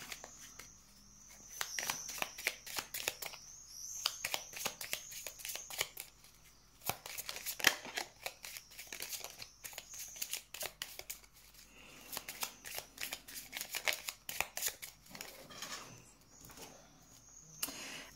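Tarot cards shuffled by hand for a reading, giving close, soft riffling and slapping card sounds in irregular bursts with short pauses, alone without talk.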